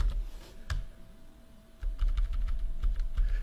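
Someone types a command on a computer keyboard, giving a short burst of close clicking keystrokes, a pause, then a faster run of taps over a low hum.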